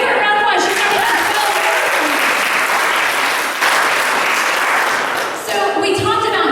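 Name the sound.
audience applause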